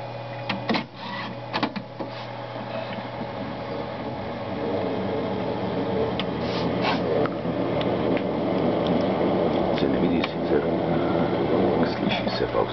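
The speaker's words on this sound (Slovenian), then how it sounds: "Problem je, da mi podajalnik ne da papirja." A faulty printer whose feeder fails to pick up paper whirs, grinds and clicks through its mechanism. The sound is close and steady, with repeated ratcheting knocks throughout.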